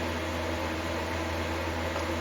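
Small fan heater running nearby in a workshop, a steady broadband whooshing hum with a low drone, constant and unchanging with no talking.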